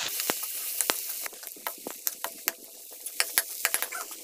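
Boiled potatoes are stirred and fried in a pan for aloo bonda filling: a soft sizzle runs under repeated sharp spatula clicks and scrapes in an irregular rhythm, close and fairly quiet.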